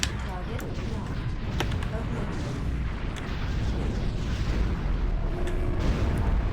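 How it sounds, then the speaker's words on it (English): Explosions and booming weapon fire from the space combat game Space Pirates and Zombies 2 roll on in a dense, continuous rumble with scattered sharp bursts, loud throughout. "Oh no! Died by the explosion."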